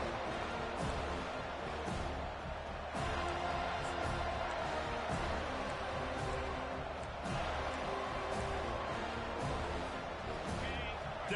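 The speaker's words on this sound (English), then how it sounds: "Decibels rising as the crowd gets behind this defense on 3rd down." A football stadium crowd cheers for the defense on third down, a dense sustained roar that swells in waves across the clip with occasional louder surges.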